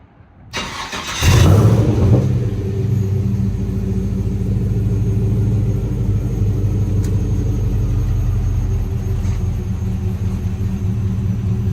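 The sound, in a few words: 1953 Chevrolet 3100 truck engine started by push button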